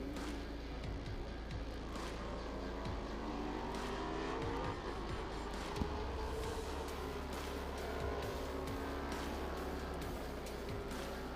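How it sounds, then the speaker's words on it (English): Race cars warm up on the track at the Sonoma SpeedTour, a steady mix of engines droning and revving at a distance, with overlapping pitch sweeps as cars pass, continuous and fairly uniform throughout. "the field is now rolled away from the grid and warming up out on the racetrack"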